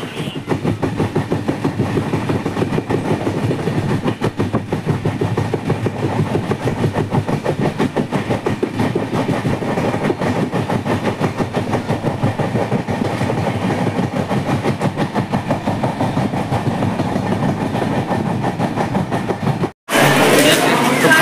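The 12857 Tamralipta Express on the Howrah to Digha line runs steadily on its rails. A continuous rhythmic clickety-clack and rumble is heard from inside, with a brief break near the end.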